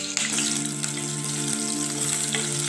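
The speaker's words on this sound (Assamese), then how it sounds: "এতিয়া আমি আলুখিনি অলপ ফ্ৰাই কৰি লম।" Potatoes frying in hot mustard oil give a steady, dense sizzle that runs without a break, close and fairly loud, with no talking over it.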